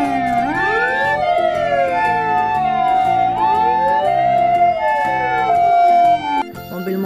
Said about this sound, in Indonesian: Ada si mobil-mobil ambulan teman-teman.